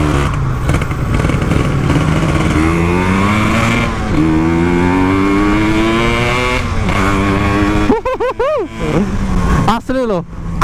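Yamaha RX King motorcycle fitted with a Ninja 150 engine, revving loudly and close with rising and falling engine pitch, ending in sharp blips of the throttle.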